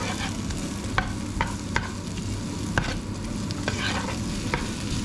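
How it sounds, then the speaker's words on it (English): Onions frying in olive oil in a pan, a steady close sizzle with occasional sharp taps and scrapes of stirring, no talking. "I'm going to cook these until they go"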